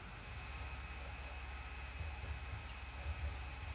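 A helicopter in the MTA multiplayer game during a firefight, its engine and rotor producing a steady, even drone that holds at moderate loudness throughout with no voices over it.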